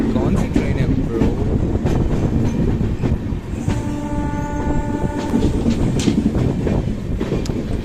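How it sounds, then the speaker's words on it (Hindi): The Amritsar–CSMT Express passes near Ludhiana with a loud, continuous rumble and clatter of the rail cars, and a train horn blares for a couple of seconds in the middle. "अमृतसर न्यू दिल्ली जालंधर, कौन सी ट्रेन है ब्रो?"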